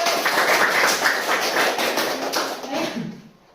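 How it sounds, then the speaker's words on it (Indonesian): A classroom of students clapping hands together in a dense, steady round of applause that fades out near the end, heard up close. "tepuk tangan lagi semua"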